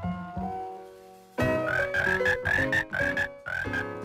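A cartoon character imitates frog croaking with a voice, a run of rhythmic, tonal ribbits repeated several times over light background music.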